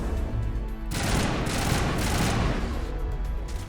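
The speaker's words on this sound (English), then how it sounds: "We're shooting them down." Rapid, dense gunfire erupts in a Mass Effect 1 battle against krogan, starting as a sudden loud burst after a short lull and continuing as a sustained, close barrage.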